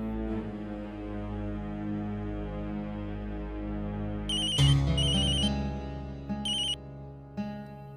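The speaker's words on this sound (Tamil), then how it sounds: "கார்த்திக் ஃபோன் பண்ணி" A phone ringtone plays, a sustained musical tone joined midway by brighter repeating electronic chimes, loud and close with no talking.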